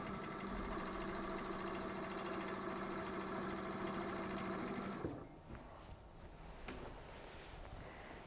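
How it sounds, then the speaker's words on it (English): A sewing machine does straight-line quilting with a piecing foot around an octagon on a table runner panel, a fast steady mechanical hum that runs for about five seconds, then stops, leaving faint handling noise. "on my machine, I really like this piecing foot, and I use it for my straight line quilting"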